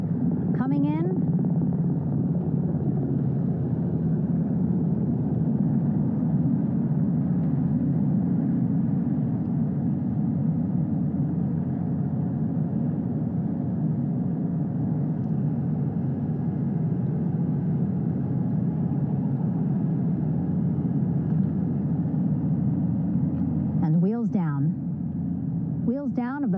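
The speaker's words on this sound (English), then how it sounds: "Wheels down of the first helicopter" A helicopter carrying Artemis II crew sets down on a ship's flight deck at sea, a constant loud, close rotor and engine rumble running the whole time, with brief voices at the start and end.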